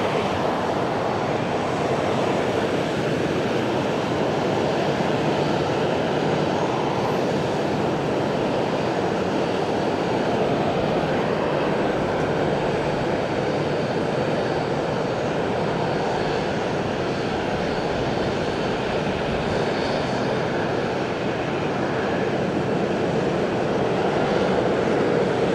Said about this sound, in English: Next in, Greater Bay Airlines, which is coming in from Hong Kong